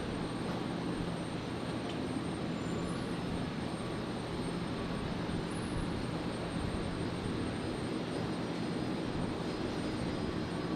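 An Alliance Fokker 100 jet arrives on runway 01 right, a steady broadband engine roar that holds at an even, moderately loud level throughout, with no voices.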